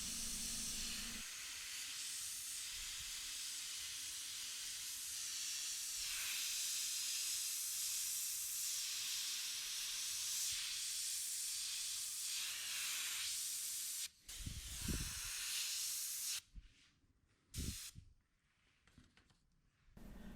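An airbrush sprays paint onto a T-shirt in a long, steady close hiss that runs unbroken for most of the time, then breaks into short bursts and pauses near the end.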